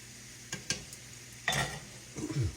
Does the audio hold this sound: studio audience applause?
no